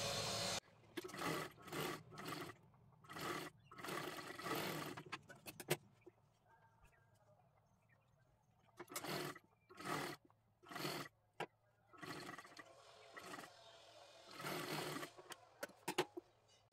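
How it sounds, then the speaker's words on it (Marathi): Sewing machine stitching both sides of the neckline of a fancy birthday dress made from a sari, heard as repeated bursts of rapid mechanical stitching separated by brief pauses, close and fairly quiet. "आता इथे आपल्याला गळ्याला शिलाई मारून घ्यायची आहे दोन्ही सुद्धा बाजूंना"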